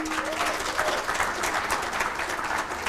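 An audience at a human rights defenders awards ceremony applauds in an even, steady round of clapping that lasts the whole moment, moderately loud with no talk.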